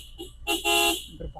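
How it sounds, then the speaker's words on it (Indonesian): A car horn honks twice in quick succession, a short toot followed by a longer blast, fairly close, on a rough rocky, muddy road in Banggai, Central Sulawesi. "Kita terpaksa harus klakson terus ini."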